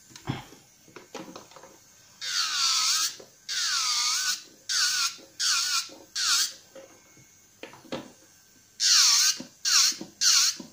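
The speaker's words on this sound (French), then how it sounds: "vous n'entendez quasiment pas la ponceuse, sauf évidemment quand elle est sur la plaque de l'ongle" A small high-pitched electric nail drill sander whines in repeated bursts, rising and falling in pitch as it grinds against a fingernail, with short quiet gaps and light clicks between.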